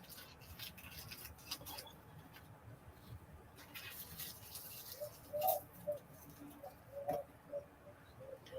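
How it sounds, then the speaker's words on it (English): Doves cooing somewhere outdoors near the Jurassic Coast, a few soft, distant coos that rise faintly above a low ambient background, with occasional faint rustles and clicks around them. "Is that pigeons I can hear?"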